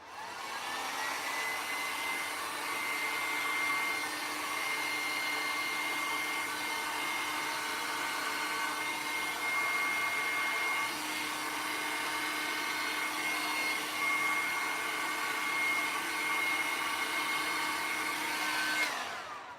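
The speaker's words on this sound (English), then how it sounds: "So I'm going to get my heat gun." Steady, loud blowing whoosh of a heat gun running continuously over epoxy resin art pour, a constant airy roar with a faint motor whine and no talking.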